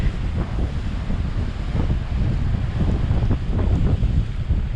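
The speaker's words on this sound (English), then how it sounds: "Massive seas too. Big waves." Strong wind of Tropical Storm Laura roars steadily at the microphone in Grand Cayman, with big ocean waves surging and crashing beneath in an unbroken, loud wash and no voices.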